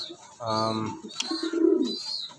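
A Blondinette Dunlace pigeon hen gives a close, clear coo, a low throaty warble followed by softer bubbling notes, in a quiet room.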